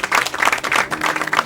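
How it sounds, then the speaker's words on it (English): Audience applause for the chiefs of Nmai Dzor at an anti-galamsey gathering, a dense, steady burst of clapping from a crowd that carries on at even loudness. "Well, give them a round of applause."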